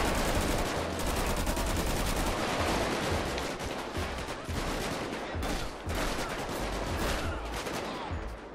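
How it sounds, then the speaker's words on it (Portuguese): Dense, rapid gunfire from a GTA V gang war fills the whole stretch, with overlapping automatic bursts and shots sounding loud and continuous. "Que tiroteio é esse aqui"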